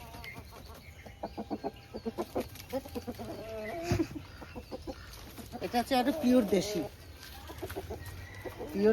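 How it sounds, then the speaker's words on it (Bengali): A native desi rooster clucks close by in rapid repeated bursts, growing louder and more agitated toward the end, while a person talks over the calls. "দেশি মোরগ।"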